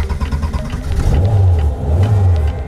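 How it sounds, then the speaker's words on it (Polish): A Volkswagen Beetle engine fires up and revs in two loud, swelling pulls, its low rumble rising and falling close by with no talk over it. "Ten dźwięk to silnik napędzający niemiecką gospodarkę. Konkretnie silnik jednego z najbardziej niegdyś popularnych i najbardziej znanych na świecie modeli Volkswagena Beetle"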